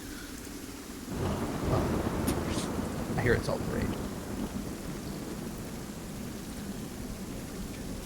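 Steady rain with a low rumble of thunder building in, while people talk over it.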